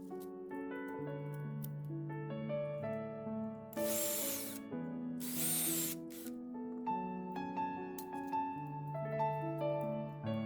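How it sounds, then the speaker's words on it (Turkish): Two short bursts of a small high-pitched drill with a 1 mm bit whir over steady background music, each lasting about a second, drilling rivet holes in tin for a miniature barbecue. "Bir milimlik matkapla persinlenecek noktaları deliyorum."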